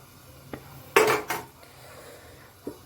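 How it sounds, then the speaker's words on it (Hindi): Chopped cashews and almonds tip into a kadhai of carrot halwa, a brief clatter of metal and nuts in two quick bursts, with a faint tap before and after. "अब मैं इसमें डाल दूँगी काजू बादाम"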